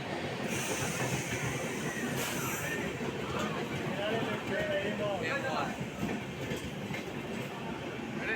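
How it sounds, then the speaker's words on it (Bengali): Puri–Shalimar Dhauli Express at platform three of Balasore station in Odisha. Low, fairly faint rail rumble and clatter continue throughout beneath a person talking. "এখন আমরা চলে এসেছি বালাসর স্টেশনের তিন নম্বর প্ল্যাটফর্ম যেখানেই চলে এসেছে আজকে আমাদের বারো আটশো বাইশ পুরী থেকে শালিমার ধৌলি এক্সপ্রেস"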